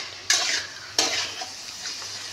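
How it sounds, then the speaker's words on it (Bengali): Vegetables with potato fry in oil for beetroot chowmein as a spatula stirs them through the pan, two sharp scraping strokes rising over a steady soft sizzle, close and clear with no talk. "একটু ভাজা ভাজা হোক এগুলো"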